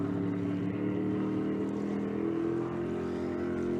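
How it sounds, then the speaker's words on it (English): Racing circle boats at a Thanksgiving regatta, their engines droning in a steady, smooth hum across the water, constant and fairly loud with no talk. "When you hear them purring like that on the water, it sounds so good up here."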